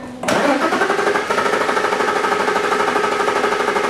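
A car engine cranks and catches during a relative compression test, then runs with a loud, steady rhythmic chugging that continues throughout.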